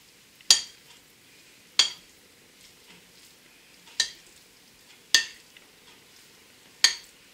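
Homemade tabbouleh is mixed in a bowl, with five sharp clinks of a utensil against the bowl at roughly even intervals over a quiet background.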